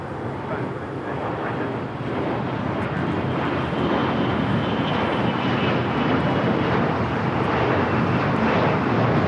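A Bombardier Global 5000 business jet at LAX roars steadily, a broad continuous engine rumble with wind buffeting on the microphone.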